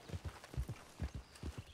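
Horse hooves clip-clop in the Western video game RedM, a steady paired rhythm of soft thuds at close range, with no voices over it.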